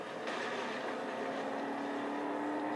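A high-revving Koenigsegg Regera engine in the racing game Real Racing 3, at Suzuka, drones steadily with a sustained whine, close and fairly even throughout.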